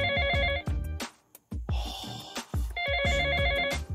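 A telephone bell rings in loud repeated electronic bursts, with short pauses and clatter between the rings.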